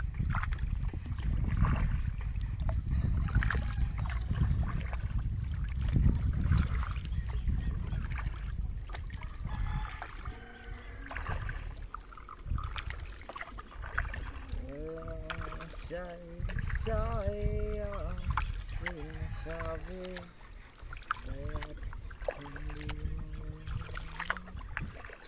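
Small wooden boat moving on open water off Linapacan, Palawan, with steady wind and water wash against the hull throughout while people talk aboard in the middle and later stretches.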